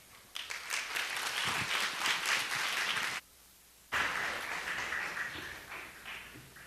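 A church congregation applauds steadily to welcome a pastor, breaks off into near silence for a moment, then claps again with the same even patter.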